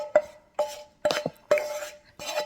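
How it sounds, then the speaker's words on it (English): A spoon or spatula stirring curry leaves, cardamom, salt and pepper in a pan for Sri Lankan fish cutlets, knocking against the metal with five distinct ringing clinks and scrapes, close and alone. "Give it a quick mix."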